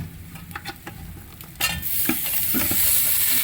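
Beef being stirred in a hot pan for Kottayam-style beef ularthiyathu, with scraping stir clicks that give way to a loud, steady sizzle as the meat hits the oil, close up and with no talking.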